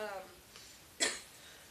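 A single sharp cough rises out of a quiet indoor room and briefly stands alone after a faint trailing voice.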